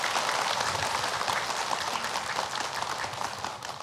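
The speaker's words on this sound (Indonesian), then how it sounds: "Boleh tepuk tangan." A crowd applauds steadily, many hands clapping in a dense, even wash that fades slightly toward the end.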